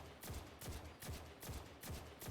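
Gunfire in the shooter video game Destiny 2: quiet, evenly spaced single shots, about five of them, each a sharp crack with a short low thump, repeating at a regular rhythm.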